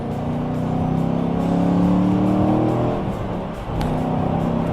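A Chevrolet Camaro Z28 with a big American V8 roars loudly through its exhaust, revving up and holding a deep growl with a brief dip before surging again, with no voices.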